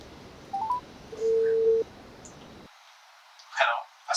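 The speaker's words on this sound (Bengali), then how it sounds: "একটা ফোন দিয়েই দেখি।" A phone number is dialed: a few short keypad tones, then one longer steady tone, close and clear, followed by a brief burst of sound near the end.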